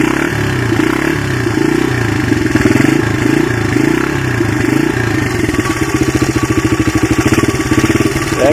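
A worn Honda XR80 motorcycle idles close by with a loud, uneven, pulsing beat that firms into a quicker steady putter partway through, with mechanical clatter and no voices.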